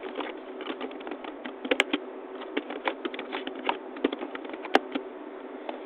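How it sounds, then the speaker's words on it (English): Close, steady tapping of keys on a computer keyboard, with quick irregular clicks and a few sharper strikes of heavier keys, heard alone without speech over a narrow, phone-like band. "here I type educational information"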